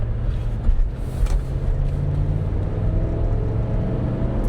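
A 2013 Chevrolet Avalanche truck accelerates onto a highway, heard from inside as a steady low engine and road rumble that swells slightly at the start and then holds level, with no talk.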